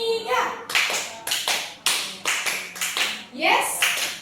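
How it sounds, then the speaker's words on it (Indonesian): A classroom of children clapping a rhythmic spirit clap in sharp unison bursts, with cheerful kids' voices shouting between the claps and a teacher leading. "Tepuk semangat 1,"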